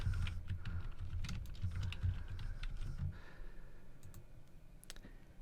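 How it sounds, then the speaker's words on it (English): Typing on a computer keyboard, a steady run of close, crisp key clicks for several seconds that thins into a few scattered taps near the end, with no speech. "I'm just going to type clickable image."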